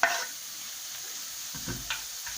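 Grated carrot is added to softened, translucent onion in a frying pan and sizzles quietly, with a few soft stirring scrapes and clinks near the end.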